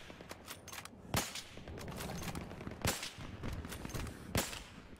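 Gunfire in the Battlefield 3 video game: sharp bursts of shots ring out at about 1.2, 2.9 and 4.4 seconds, with scattered softer pops and constant background battle noise in between.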